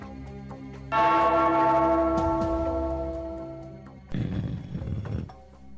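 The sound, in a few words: ringing a bell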